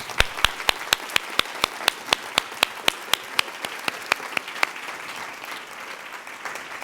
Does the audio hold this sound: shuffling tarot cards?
no